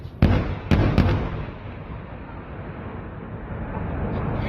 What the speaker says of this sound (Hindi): किस तरीके से गाजा द्वारा भी बम बरसाए गए हैं